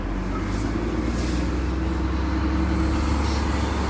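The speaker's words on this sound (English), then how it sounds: "You can see how close the trucks get." Trucks hauling sugar beets during the harvest near Crookston, Minnesota, rumble steadily close by, with a continuous low engine and road drone and no voices.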